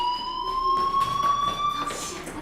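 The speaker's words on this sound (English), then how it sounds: "Hey, do you hear that fire alarm?" A fire alarm in the video game Life is Strange, a steady high-pitched electronic tone that rings continuously and loudly, with faint background activity beneath it.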